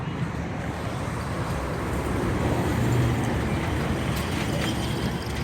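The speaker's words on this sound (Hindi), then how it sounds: "ये जी कार बाज़ार हटिया।" Car traffic at an outdoor used-car bazaar in Hattian, Attock, Pakistan: a dense, steady rumble of engines and road noise with a breezy wash, loud and continuous throughout.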